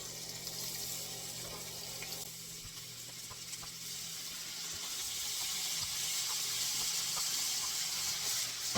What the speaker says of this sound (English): Our meat is searing away over there.